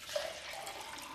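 Water pours into the paint container of a Husky spray gun from a bucket, a steady splashing trickle that fills the cup alone for just over a second.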